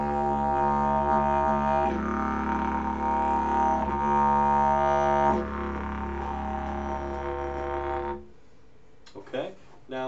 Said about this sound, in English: So you want to project that voice in key with the didgeridoo.